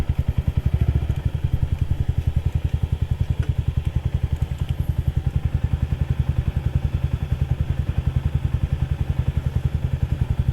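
Honda CT125 motorcycle ploughing through mud, its engine thumping in a steady, rapid pulse close by, with faint clatter over the low drone and no talk.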